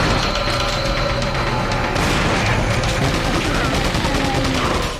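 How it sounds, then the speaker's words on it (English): Dense, continuous barrage of gunfire from beta-era weapons in the Resident Evil 4 video game, rapid overlapping shots and booms filling the whole stretch at steady high loudness. "some of the weapons that were used seem to have some sort of different shooting sound"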